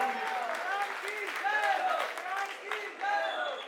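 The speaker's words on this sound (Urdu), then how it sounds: "ان کے لیے بھرپور تالیاں" Applause from the audience at a Sargodha board position holders' award ceremony, a steady wash of clapping that runs the whole time, with someone talking or cheering over it in the hall.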